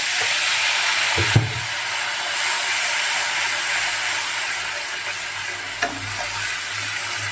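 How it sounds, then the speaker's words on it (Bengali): Water splashed into a hot pan of frying cumin and ginger paste sets off a loud, steady sizzle and steamy hiss, with a sharp clank near the start and a softer one later, and no talk. "একটুখানি জল দিয়ে দিচ্ছি।"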